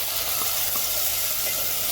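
Washed rice roasting in ghee with cardamom and cloves gives a steady, soft sizzle and hiss throughout, close and continuous with no talk.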